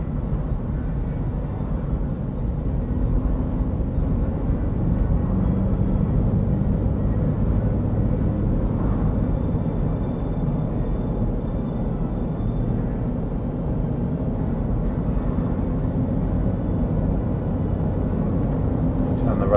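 Interior of a 2001 Jeep Grand Cherokee 4.0 Limited cruising at about 50 mph with the air conditioning blowing, a steady low road and engine rumble with airflow hiss throughout and no clear gaps.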